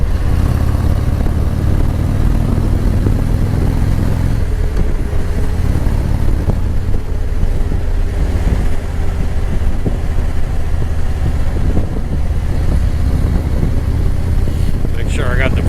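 A motorcycle engine drones steadily while riding along a mountain road, with wind rushing over the microphone, and a rider's voice talking over it throughout.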